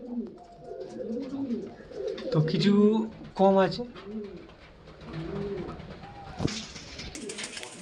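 Short standing pigeons of a Madrasi flying breed cooing in a loft, several close, throaty rolling coos in repeated phrases, while someone talks over them.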